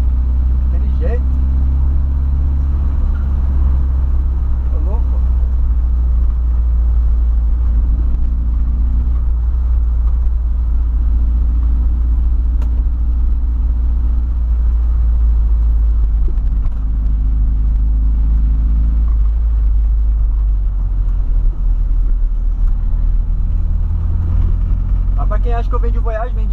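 Volkswagen Voyage car engine idling and revving in a garage, a loud low rumble with repeated swells in pitch, with people talking over it.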